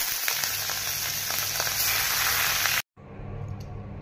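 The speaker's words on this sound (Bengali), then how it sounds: "মাছগুলো আমি হালকা করে ভেজে নিচ্ছি" Fish pieces fry lightly in hot oil in a kadai wok, producing a dense, loud, continuous sizzle that cuts out briefly before a quieter sizzle resumes.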